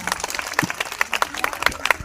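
Applause at a school Independence Day celebration on 15 August, a short burst of many hands clapping with dense, uneven claps and light crowd noise throughout.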